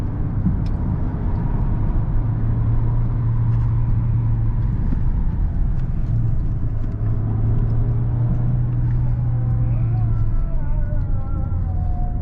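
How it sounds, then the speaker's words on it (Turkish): Volkswagen Passat 1.4 TSI on winter tyres accelerating hard along a tree-lined village road, with a steady loud engine drone and rising gear tones throughout, heard from inside the car. "Böyle gazlarken pek konuşamıyorum kusura bakmayın."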